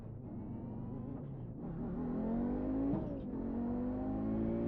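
An Audi race car in iRacing revs up steadily, its engine tone rising and falling through gear changes, loud and close with no talk over it.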